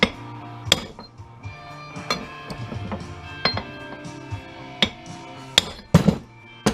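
A heavy hammer strikes a steel chisel on a scrap Sharp Carousel microwave oven, giving about eight sharp, ringing metallic clanks at irregular intervals, close and loud, with faint clinks between blows.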